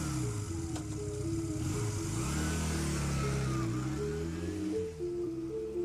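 Motorcycle ride, a mid-pitched engine droning steadily up close with shifting revs and gear changes, loud and continuous with no talk.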